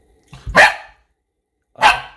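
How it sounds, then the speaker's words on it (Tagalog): A dog barks twice, loud and close, with a gap of more than a second between the two sharp barks. "Yan po ang aso namin na si Licorice"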